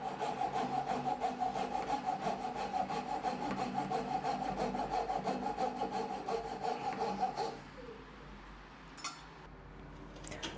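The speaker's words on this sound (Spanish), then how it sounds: "creamos una ranura con una sierra de calar" A jigsaw saws a slot in wood with a loud, steady, rapidly pulsing buzzing rasp for about seven seconds, then cuts off, leaving quiet room tone and a couple of faint knocks.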